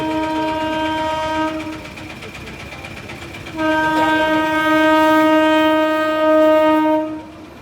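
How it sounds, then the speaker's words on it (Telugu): A goods train sounds its horn at a level crossing: two long, loud, steady blasts close by, separated by a brief gap, with faint rumble underneath. "goods train goods"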